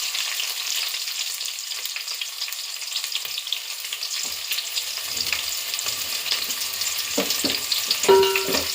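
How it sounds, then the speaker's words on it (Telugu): Onions and green chilies fry in hot oil for bagara rice, giving a dense, steady sizzle throughout, with a few soft stirring knocks and a brief clunk near the end. "ఉల్లిపాయలు కొంచెం దూరగా వేగాలి"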